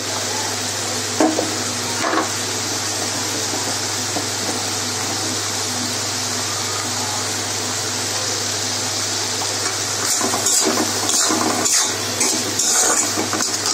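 Chickpeas (chana) sizzle steadily in a hot pan while being fried for chana bhuna, a continuous broad frying hiss with a low hum beneath and occasional scrapes and clinks of a spoon stirring, no voices.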